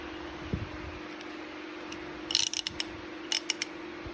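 A socket wrench with a 17mm 6-point socket ratchets to remove the blade from an Echo Edger-225, giving two short bursts of quick, crisp clicks over a quiet background.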